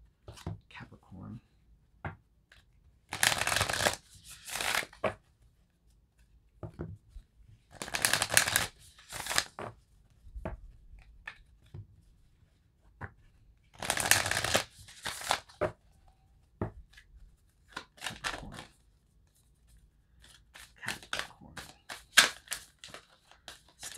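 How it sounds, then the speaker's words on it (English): Tarot and Moonology oracle cards are shuffled in several loud bursts of riffling and rustling, with softer handling noises and quiet talk in the pauses between. "Let's pull a Moonology card for Capricorn for June."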